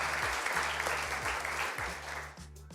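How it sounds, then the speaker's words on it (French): Sustained applause from an audience at the closing speech of an association's general assembly, dense and steady clapping filling the room before tapering slightly at the end. "On peut vous applaudir"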